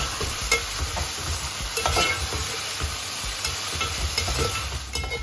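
Onions frying with whole spices and whole dried red chillies in a pan, a steady sizzle under repeated scraping stirs from a spoon, close and fairly loud throughout with no talk.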